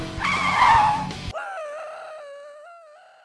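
A cartoon race car braking hard, a loud tire skid that squeals for about a second then drops into a long wavering whine that slowly fades, no speech over it.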